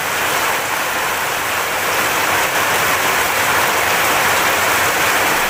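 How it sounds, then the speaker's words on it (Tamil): Heavy night rain pours down in Chennai, a loud, dense, unbroken hiss of falling water that stays steady from start to finish. "சென்னை சென்ட்ரல், எழும்பூர், அண்ணாசாலை, பட்டினப்பாக்கம் உள்ளிட்ட பகுதிகளில் கனமழை பெய்தது"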